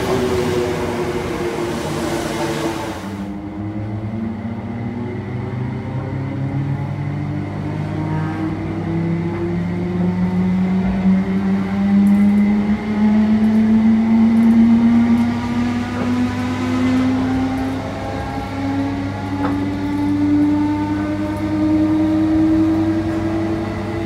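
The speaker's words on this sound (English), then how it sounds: "Well, here's our train." A train departs and gathers speed, its motor whine rising steadily in pitch over a continuous rolling rumble heard from inside the carriage, with no one talking.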